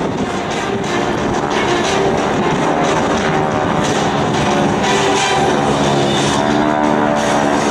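Propeller aircraft of the GEICO Skytypers flight of four drone steadily in echelon formation over an air show. The engine roar is loud, continuous and broadband, with no voices or breaks.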